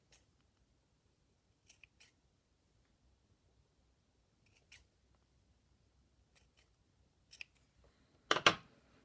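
Scissors snip thread for a mini tassel in a quiet room, a few soft isolated clicks spread out, then a louder cluster of sharp snips at the end.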